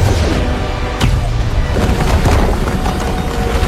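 An explosion from the superhero movie Black Adam, with a loud, dense, sustained rumbling blast, a sharp crack near one second and continuing crashing debris, with no voices.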